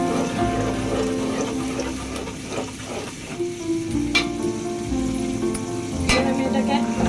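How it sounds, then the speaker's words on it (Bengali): Fried garlic added to a dish and sizzling loudly in the pan, with scraping stirs and clinks against the cookware, close and continuous. "আমি যেহেতু রসুনটা ভেজে এটার মাঝে দিচ্ছি"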